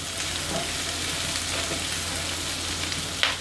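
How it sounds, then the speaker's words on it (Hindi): Capsicum frying briefly in a pan for Chicken Manchurian, a dense even sizzle heard up close with a faint utensil tap near the end, no voices. "शिमला मिर्च, कैप्सिकम, और इनको भी सिर्फ हम फ्यू सेकंड के लिए यूँ फ्राई करेंगे"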